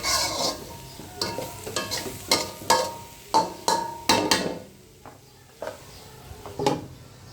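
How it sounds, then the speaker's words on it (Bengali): Vegetables stir-fried in a pan, with repeated scraping and stirring strokes over a steady sizzle, near and moderately loud, with no talking. "আমাদের ভাজি হয়ে গেছে প্রায়। আর একটু হবে।"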